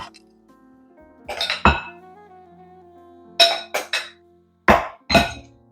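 Coconut lemon energy-bite mixture packed into a glass mason jar or food container, with a few sharp clinks and knocks of glass and utensils in two bursts, close and fairly loud.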